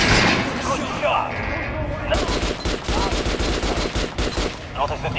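Rapid gunshots fired at a target dummy on a shooting range in Metro: Last Light, a burst of sharp, loud reports after a brief quieter lead-in, with speech heard under the firing.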